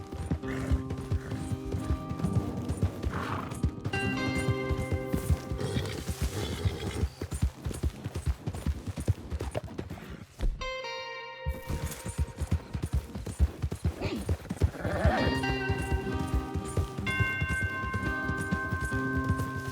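Horses gallop in Red Dead Redemption 2, rapid clip-clopping hooves drumming steadily and loudly throughout, with a horse whinnying and a game music score running beneath, a brief lull midway.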